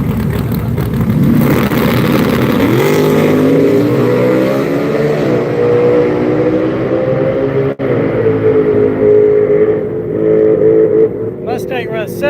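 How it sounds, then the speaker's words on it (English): Ford Mustang making a drag racing pass at a drag strip during Sick Week in Gainesville, Florida, a loud engine roar climbing through gear changes and fading into the distance, with an announcer talking over it. "Mustang runs 776 at 177"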